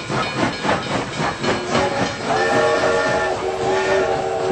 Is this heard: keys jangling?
no